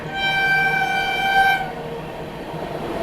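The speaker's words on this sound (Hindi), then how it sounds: "बलिया से चलकर एलटीटी लोकमान्य तिलक टर्मिनल्स की ओर जाने वाली कामयानी एक्सप्रेस, जो अभी हमें क्रॉस करेगी" Kamayani Express passenger train running from Ballia to Lokmanya Tilak Terminus passes on the crossing track, a long steady horn blast over loud rumbling wheels, with the horn cutting off partway and the rolling noise continuing.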